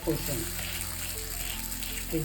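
Paruppu poli fries in ghee on a tawa over a medium flame, giving a steady, close sizzle with a faint voice underneath.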